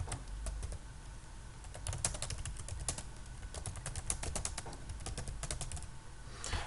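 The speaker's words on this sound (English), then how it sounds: "I'm just going to type in." Steady typing on a computer keyboard, a quick run of light key clicks with short pauses, close and clear over faint low room hum, with no voices.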